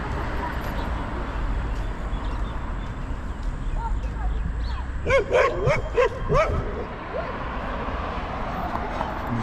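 A pack of five dogs at a techno-shopping center in Dushanbe, Tajikistan, breaks into a cluster of sharp barks and yips in the middle of the stretch, over a constant outdoor background with people talking.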